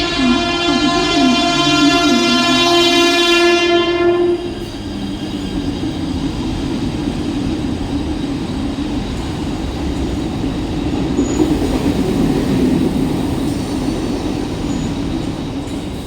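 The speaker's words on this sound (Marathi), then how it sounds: "प्लॅटफॉर्म क्रमांक 1 पर आई हुई लोकल 10:42 की कल्याण जाने वाली ही लोकल है" A Mumbai local train arrives at Vikhroli station platform: a loud horn-like tonal blast for the first few seconds gives way to a steady rumble and rattle of wheels and carriages rolling in close by.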